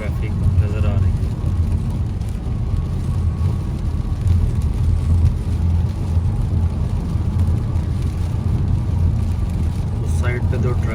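A car drives along a busy highway near Toronto, its engine and tyre drone a steady loud rumble from inside the cabin, while someone talks throughout.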